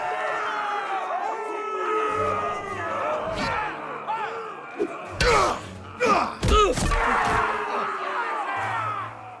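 An arena crowd in the PS5 game Game of Thrones: A Nest of Vipers roars and shouts in overlapping waves, broken by several sharp, loud impacts near the middle, with voices calling out throughout.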